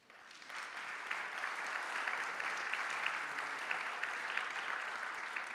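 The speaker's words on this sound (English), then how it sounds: "I guess they deserve some applause." Audience applause at a Paris summit on artificial intelligence, a broad steady wash of clapping that swells in quickly and holds evenly, heard from a moderate distance in a large hall.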